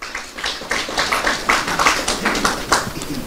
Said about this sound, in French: ça mérite beaucoup plus d'applaudissements